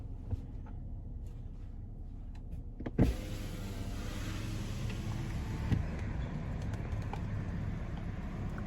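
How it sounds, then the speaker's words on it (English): The electric window motor of a 2017 BMW 740i M-Sport xDrive with 88,000 miles whirs steadily as the glass rolls up, ending with a soft thump, then the outside road noise drops to a quieter cabin hum. "I'm going to roll the window up"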